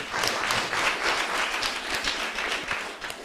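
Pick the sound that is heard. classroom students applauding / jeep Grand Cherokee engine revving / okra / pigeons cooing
classroom students applauding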